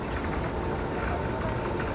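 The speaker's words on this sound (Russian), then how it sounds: "Это канатка." Cable car machinery on Mount Mashuk above Pyatigorsk runs with a steady, low, broadband rumble and whir that holds even and continuous, with no breaks, throughout the short stretch.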